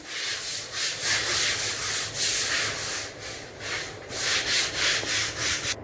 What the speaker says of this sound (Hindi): विम डाल के हमने अच्छे से रगड़ दिया है